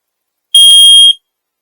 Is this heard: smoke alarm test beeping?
yes